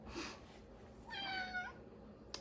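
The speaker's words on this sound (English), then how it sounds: "And that's the cat." A cat lets out a single clear meow in the middle of a quiet room, fairly faint against a low background hiss, with no talking.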